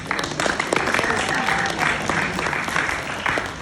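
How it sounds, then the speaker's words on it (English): A small group claps, a continuous patter of hands that holds steady for a few seconds, with some voices mixed in underneath. "I think he's clapping, so clap for him."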